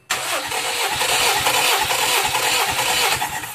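EM21 engine under restoration cranking and catching, a loud rough mechanical churn with rhythmic pulsing beats that starts suddenly and runs unevenly for a few seconds, close to the listener.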